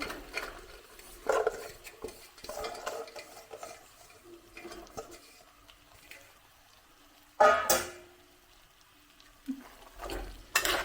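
Garlic cloves for pickle are stirred in a pan over a low flame, giving soft scraping and shuffling with occasional sharper clinks of the spoon against the pan, fairly quiet with no talk.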